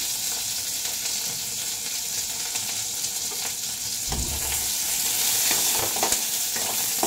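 Eggplant pieces fry in freshly added oil for a vegetarian sabji, making a loud, continuous sizzle with a brief utensil clatter partway through. No one speaks.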